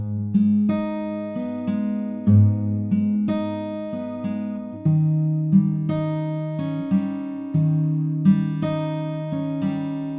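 A guitar plays a steady fingerpicked passage from a song in The Last of Us Part II, with ringing arpeggiated notes and chord changes over about ten seconds, close and clear, no talking.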